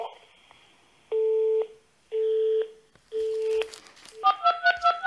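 A telephone call is dialed: three long steady tones sound in turn, followed by a quick run of keypad beeps, all clear and close with no talking.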